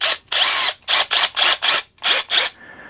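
A power drill fitted with a new, unused bit for drilling a clay pot whirs in six or seven short, loud bursts, each spinning up and stopping with brief pauses between.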